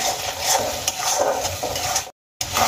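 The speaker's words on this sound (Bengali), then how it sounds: "এবার আমি পেঁয়াজ আদা রসুন খুব ভালো করে ভেজে নেব" Onion, ginger and garlic frying in a pan, with a close, steady sizzle and rhythmic scraping of a stirring spoon, broken by a brief cut to silence.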